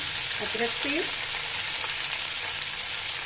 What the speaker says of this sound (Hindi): अदरक पेस्ट को भी हम सौटे करेंगे